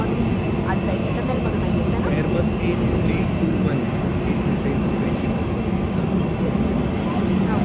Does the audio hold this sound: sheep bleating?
no